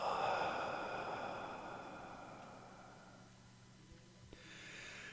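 A slow, drawn-out exhale during a guided breathing exercise, soft and close, with the breath fading gradually into quiet room tone.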